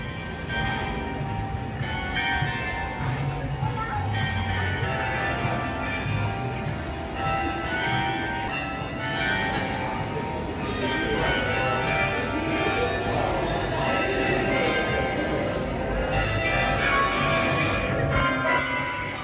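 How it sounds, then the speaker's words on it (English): Clock tower bells ringing out over a street in Porto, Portugal, a sustained run of overlapping bell tones carrying on for nearly twenty seconds amid city ambience, with a voice talking at times. "they're playing some bells for us"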